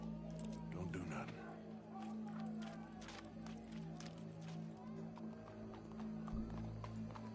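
Horse hooves clip-clop at a steady walking rhythm in Red Dead Redemption 2, set over a continuous low hum and ambient game sound, with a brief louder thump near the end.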